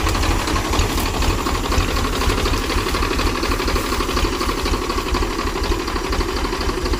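A Powertrac 439 tractor engine idles steadily and loudly up close, a dense rhythmic chugging and knocking that holds constant throughout.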